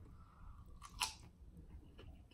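Quiet, close chewing of crunchy vegan fried chicken during a mukbang, with one crisp bite crackling at the center amid soft mouth sounds.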